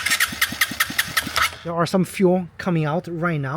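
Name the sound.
scooter engine cranking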